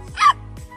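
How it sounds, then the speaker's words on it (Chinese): A stray puppy on a riverbank gives a single short, high yelping bark, followed by a fainter second yelp, close by with no talk over it. "这个小狗呢也没闲着，在岸边对着钱包嗷嗷的叫唤"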